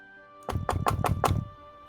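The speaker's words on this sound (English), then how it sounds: "you'll hear a knock at your door" Five quick, firm knocks on a wooden door land in an even rhythm, close and distinct, in an otherwise quiet room.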